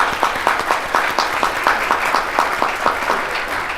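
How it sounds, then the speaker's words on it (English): Audience applause at a foundation gathering, a steady wash of many hands clapping at a brisk, even pace, moderately close and with no voices over it. "Let's give them a round of applause,"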